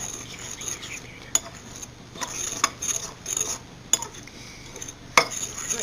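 A spoon stirs sugar and ground cinnamon in a bowl, giving soft scraping with a few sharp clinks against the bowl at irregular moments, close and fairly quiet.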